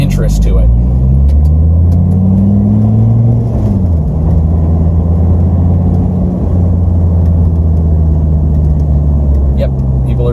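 A Dodge Viper GTS V10 with a manual gearbox driving on the road: a loud, close engine drone with rising and falling pitch as it pulls through the gears, one shift dip partway through, steady throughout.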